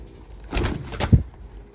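Young English pigeons, a small group of males and females, give a short low coo amid a soft burst of wing fluttering, close by.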